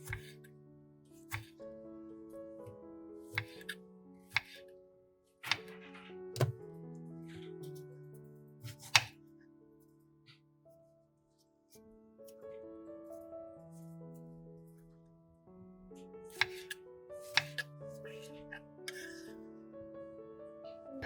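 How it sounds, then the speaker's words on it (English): Knife slicing through tomatoes on a board: sharp isolated chopping knocks come in short irregular clusters, close and crisp, separated by quiet stretches of soft background music. "Slice the tomatoes."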